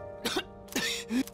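A character in Persona 3 Reload coughs three times, short and harsh, over a low steady game background hum.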